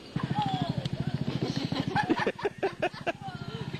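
A recently repaired van engine runs steadily with a rhythmic low chugging throughout, while people talk over it close by.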